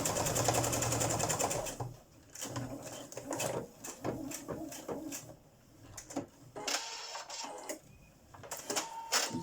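Sewing machine stitching seams on a denim bag, close and loud, in repeated bursts of fast mechanical whirring separated by short pauses, with small clicks and handling noises between runs.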